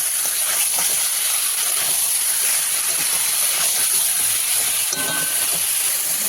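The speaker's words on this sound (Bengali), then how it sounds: "এটা দিয়ে দেবো আমি মাটনটাকে মশলার সাথে ভালো করে কষিয়ে নেব" Mutton sautés with spice paste and oil in a pan for a korma, giving a steady, loud sizzling hiss that runs without a break.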